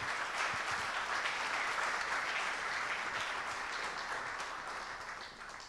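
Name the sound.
audience applause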